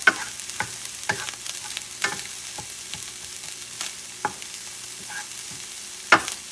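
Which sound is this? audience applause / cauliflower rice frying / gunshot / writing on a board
cauliflower rice frying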